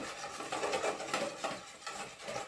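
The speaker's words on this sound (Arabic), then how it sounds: "هتروحوا مقلبينها كده بأي حاجة عندكم" Food is stirred and turned in a pan with a utensil, a steady close scraping and rubbing in repeated strokes with no talk over it.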